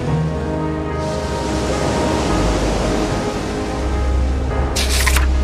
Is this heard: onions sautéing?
no